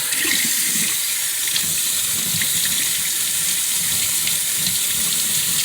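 Hot water runs steadily from a tap, a continuous close splashing gush that stays even throughout with no voices.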